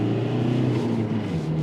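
A 2024 Ford Transit van's engine hums steadily from inside the cabin while driving, a continuous somewhat noisy low drone with a faint rising tone and no breaks.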